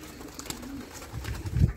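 Pigeons at a Polish pigeon loft, low soft cooing swelling toward the end of a short stretch, close and moderately loud with faint rustling around.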